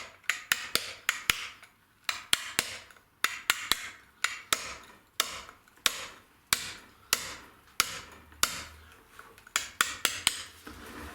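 Hammer strikes a steel chisel to carve numbers into stone, sharp metallic taps ringing out in a steady rhythm of short bursts, close and clear with no talking.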